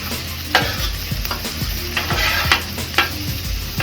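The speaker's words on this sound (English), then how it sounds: "let's go ahead and mix the potatoes once more" Potatoes frying in a pan are stirred with a utensil, giving a steady close sizzle broken by several sharp scraping knocks against the pan at a loose, even rhythm, with no talking.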